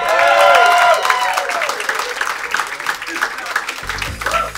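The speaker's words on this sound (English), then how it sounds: "One more time for Luke Null, ladies and gentlemen." A comedy club audience at a stand-up show bursts into loud applause and cheering, clapping that swells at first then thins under a host's voice.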